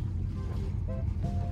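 Sailboat sailing upwind across the Bay of Gibraltar in light wind, a faint steady wash of water and breeze against the hull with soft low rumble, no voices.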